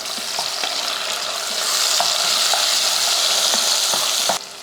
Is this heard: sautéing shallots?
yes